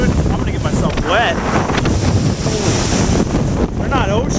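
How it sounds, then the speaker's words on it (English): Huge waves on a lake crash and surge in strong wind, a loud continuous roar of surf with heavy wind buffeting across it near the dock. "But these waves are freaking huge, dude."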